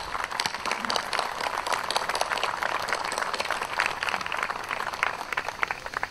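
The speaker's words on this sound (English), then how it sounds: "Can we give them, please, a big round of applause?" Sustained audience applause fills a ceremonial Navy retirement and change-of-command event, a steady dense wash of many hands clapping for the Navy Band and Honor Guard, moderately loud and continuous without talk.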